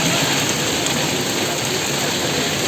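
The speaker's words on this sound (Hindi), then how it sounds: "और ये यहाँ पे घमासान बारिश होते हुए" Heavy rain pours down on a mountain road, a dense, continuous hiss that fills the whole clip with no pauses.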